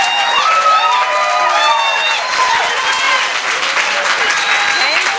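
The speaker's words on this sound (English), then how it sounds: "Now you may clap." A church congregation at a Sunday service applauds, a steady dense wash of clapping with cheering and voices mixed in throughout.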